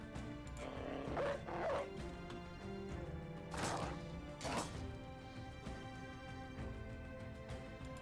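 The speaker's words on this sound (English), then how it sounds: "think we'll let the dogs out." Dogs bark a few times in the Battle Brothers video game, a couple of sharp bursts among crashing combat effects over a dense, steady game soundtrack.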